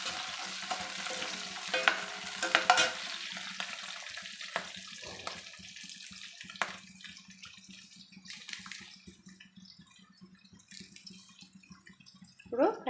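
Chopped green chillies stir-fried with onions browned to a golden colour, heard as a soft, steady sizzle with scraping spoon stirs and occasional clinks, fairly quiet and without voices.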